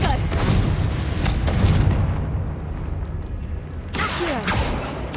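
A Confringo fire spell from Hogwarts Legacy goes off during catacomb exploration: a loud, rumbling explosive blast with a sustained roar, then a second burst of crackling energy near the end.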